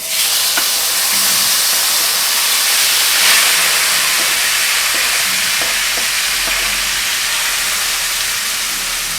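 Tomatoes frying in a hot pan for a chicken taquito sauce give a loud, steady sizzle and hiss, with occasional soft stirring clicks close by and no speech.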